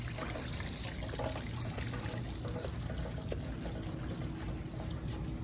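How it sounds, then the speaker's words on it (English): Water pours out steadily and floods an area of an abandoned plaza, a constant broad rushing and trickling wash that stays loud and unbroken throughout, with no voices. "Water's pouring out, causing this whole area to kind of flood."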